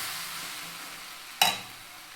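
Dried fish curry (karuvattu kulambu) stirred in a pan, a soft continuous sizzling hiss with one sudden scraping stir of the spoon near the end.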